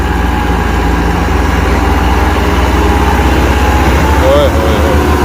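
A tractor engine labours under heavy load as it climbs a steep slope, a loud, constant low rumble with a steady drone throughout and a brief rising whine near the end.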